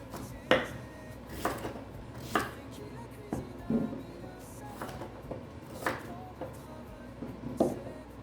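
Vegetables for a winter soup chopped with a folding knife on a board, close and steady, with sharp knocks spaced about a second apart over a low room hum.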